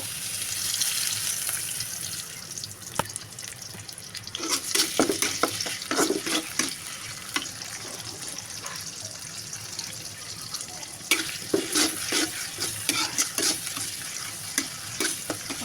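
Cardamom, cinnamon and onion fry together in oil with a continuous sizzle, broken by bursts of scraping and clinking as the pan is stirred, close and moderately loud with no voices.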